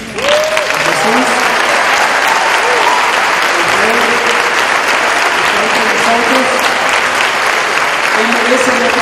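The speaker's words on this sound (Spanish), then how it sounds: "Quiero que le brindamos en esta hora un aplauso muy grande a quien lo merece." A church congregation gives sustained, loud applause for Jesus during a Spanish-language sermon, the dense clapping steady throughout with voices heard over it.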